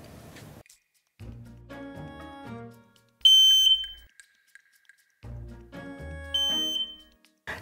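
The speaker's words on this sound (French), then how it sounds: "Dans le plafond de la maison se trouve alarme au feu." Ceiling smoke alarm in a Finnish rental home, loud piercing electronic tones sounding in short bursts between stretches of music.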